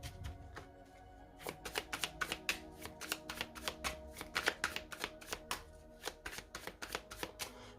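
Tarot cards are cut and shuffled by hand close up, a quick run of crisp riffling slaps and flicks in an irregular rhythm after a soft rustle at the start, with no talking.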